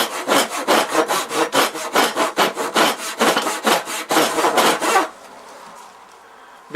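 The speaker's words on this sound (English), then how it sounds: "then the saw, and bring the saw down till it's level" Hand saw, a dovetail saw, cutting wood for a tee halving joint: about twenty quick, even back-and-forth rasping strokes, close and loud, then the sawing stops and leaves faint room tone.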